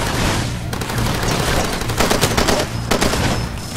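Rapid gunfire in the video game Far Cry rattles loudly in dense bursts aimed at the player, with sharper shots popping out over a low rumbling game background.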